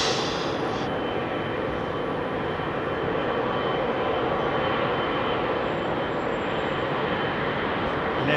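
Swiss airliners taxiing and landing at Heathrow, heard as a continuous loud jet engine roar that stays even from start to finish, with no one talking.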